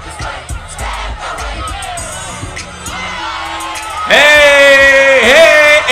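Crowd in a hip-hop music video cheering and shouting, a loud roar of many voices that swells sharply toward the end, with music and a person talking underneath earlier.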